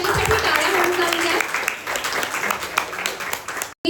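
An audience at a school manuscript publication ceremony applauds staff and student volunteers, a dense burst of clapping that runs over the speaker's voice and cuts off near the end.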